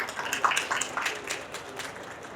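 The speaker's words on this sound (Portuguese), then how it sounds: "Uma salva de palmas, né?" Audience applause at a panel session honoring an environment committee president, a steady wash of many hands clapping at moderate level through the brief stretch.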